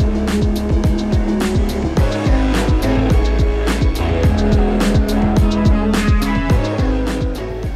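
A 13,000-pound truck drives on soft White Sands dunes, its engine close and loud, climbing through rapid rising revs again and again in a steady, churning rhythm.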